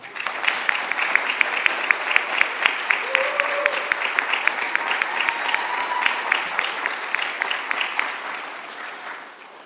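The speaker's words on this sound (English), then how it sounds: "a round of applause." An audience at an eighth grade graduation at an Adventist school applauds, a steady mass of clapping with a faint rhythmic beat emerging, holding strong before tapering off at the end.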